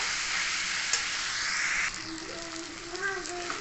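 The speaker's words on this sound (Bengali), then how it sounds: "এবারে লো ফ্লেমে আমি এখন চাপা দিয়ে দিয়ে একটু রান্না করে নেবো" A dry, spicy yardlong bean and potato curry simmers on a low flame, giving a steady soft sizzle and stirring scrape throughout, with faint clinks and brief utensil sounds near the end.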